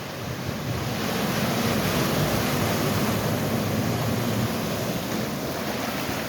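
Car rolling slowly through deep floodwater on a street flooded by a water main break, a broad steady wash of splashing and rushing water with a faint low engine rumble beneath.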